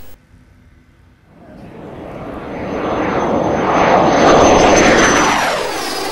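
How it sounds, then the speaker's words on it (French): A Jet Provost jet aircraft at a Florida air show flying past, its engine roar building from near silence to a loud, sustained whoosh that peaks and starts to fade, with a rising whine on top. "On voit ici un jet Provost provenant des stocks de l'armée de l'air canadienne"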